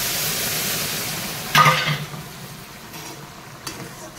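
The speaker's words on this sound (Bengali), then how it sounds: "এবারে আমি গরম জল দেবো।" Hot water poured into ghugni curry frying in a pan, a sudden loud hiss that swells and then fades into a quieter bubbling sizzle, with a light clink near the end.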